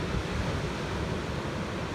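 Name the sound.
stormy sea waves at Cape Aya, Crimea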